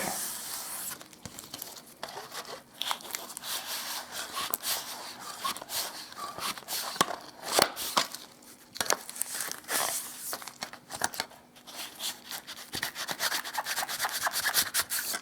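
Abrasive sanding back wood filler on woodwork, a continuous close scratchy rubbing with irregular strokes and scrapes running throughout, steady and moderately loud with no talk.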